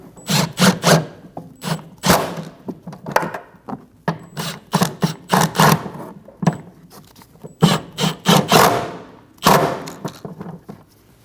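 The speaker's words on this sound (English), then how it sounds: "Snug the bolts down." A hand ratchet snugs down the bolts on a 2012–2022 Volkswagen Passat rear shock absorber, giving loud, close bursts of rapid clicking broken by short pauses and occasional metallic thumps.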